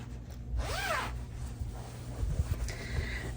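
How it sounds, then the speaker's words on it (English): A hidden zipper on the back of a quilted pillow cover is pulled once, giving a quick close rasping zip of under half a second, then quiet handling rustles. "there's a hidden zipper on the back."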